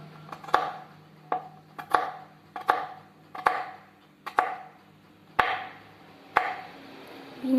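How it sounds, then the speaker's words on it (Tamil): Beans and carrots being cut into small pieces with a knife on a board for a vegetable kurma: about ten crisp, evenly spaced chops, each a sharp knock followed by a short crunch, close and clear with no talking. "இதையும் கட் பண்ணி எடுத்துக்கலாம் சின்ன சின்னதாகவே கட் பண்ணிக்கலாம்"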